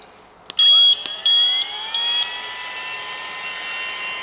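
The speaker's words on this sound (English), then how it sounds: "It's got an alarm for when the filter needs replacing, and an alarm when the battery" An air-fed welding helmet breather pack sounds its alarm: three loud, sustained high-pitched electronic beeps, followed by a steady lingering whine from the unit, with no talk.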